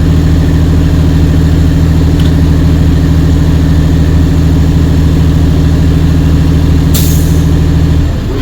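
A truck engine idles steadily to build air brake pressure toward governor cutout, with a loud, constant low rumble held close throughout and brief hissy bursts near the end.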